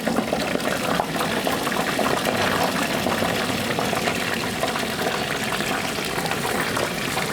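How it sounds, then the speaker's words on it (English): Egg rolls frying in oil in a Dutch oven at a historic site, a steady dense hiss of bubbling with continuous crackling and popping, close and loud throughout, no voices. "If you can hear me over the popping and cracking, that's the bad thing about these egg rolls, is they do pop and crack a lot."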